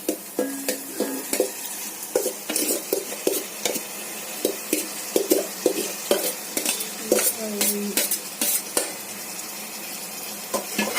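Boiled prawns are stir-fried with ginger in a pan, with repeated sharp scrapes and clinks of a spatula over a steady sizzle in an uneven rhythm, close and fairly loud.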